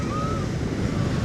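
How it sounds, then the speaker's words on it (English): Strong wind buffets the microphone on Coney Island beach in winter, a continuous low roaring rumble blended with surf, with a faint bird call briefly rising above the wash. "Look at the wind here."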